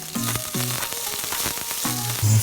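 Garlic sizzling in a hot pan for a vegan soup, a steady close frying hiss broken by repeated stirring scrapes and clacks.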